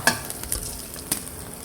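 Cooking oil sizzles steadily in a pan with a soft hiss, broken by a few sharp crackles and pops near the start and about a second later, with no voices.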